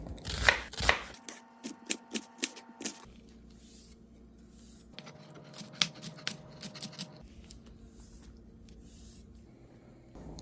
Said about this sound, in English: Dice 1/2 of an onion and 1 green pepper.